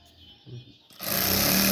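A sewing machine stitching a kameez sleeve starts after a brief quiet moment, then runs as a loud, steady, close-up mechanical whir.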